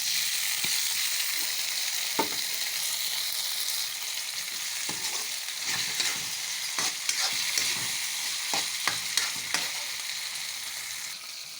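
Corned beef sautéing with onion and garlic in a pan, a steady close sizzle with repeated scraping stirs and clicks of the utensil against the pan throughout, no talking.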